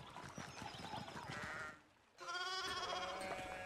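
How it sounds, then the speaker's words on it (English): Sheep bleating in the video game Pentiment, several harmonic bleats close by, a shorter call first, then a quiet gap, then a longer sustained bleat with overlapping calls. "You need to get these sheep under control."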